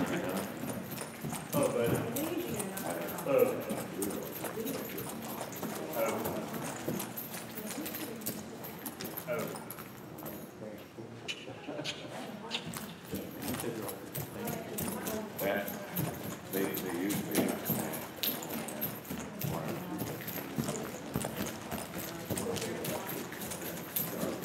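Hackney ponies' hooves clip-clop steadily in a barn during a breeders' sweepstakes barn tour, a close, continuous rhythm running under nearly constant conversation.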